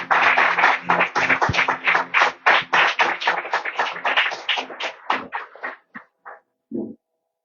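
Church congregation at a worship service claps and cheers in praise, loud dense applause that thins into a few scattered claps and fades out near the end.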